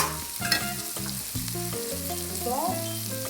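A whole salmon sizzles loudly in a pan, a dense frying hiss with bursts of crackle, under tonal background music.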